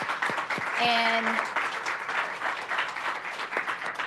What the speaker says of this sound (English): So round of applause for these four fabulous people.